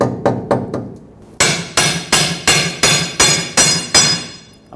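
A hammer strikes a lower control arm bushing on a 2003-2012 Chevrolet Colorado: three quick lighter taps, then a run of heavy, evenly spaced metallic blows that ring briefly after each hit.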